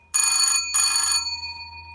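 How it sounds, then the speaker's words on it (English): Telephone bells ring on a phone plugged into an NBN line with multiple wall sockets: two loud, close metallic bursts, the second trailing off into a fading ring. "Now you can see you've got the bells ringing."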